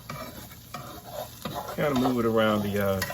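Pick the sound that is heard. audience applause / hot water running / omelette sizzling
omelette sizzling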